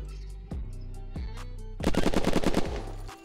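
Gunfire in the survival shooter Unturned during a PvP base raid: a few heavy single shots ring out, then a rapid automatic burst of about a dozen loud, punchy rounds. The shots are close and dominate a quiet background.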